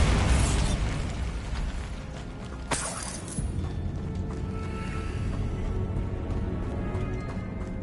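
A Bombarda blasting-spell explosion in Hogwarts Legacy: a sharp burst and crackle of debris a few seconds in, set against continuous game ambience and clattering mechanical sounds.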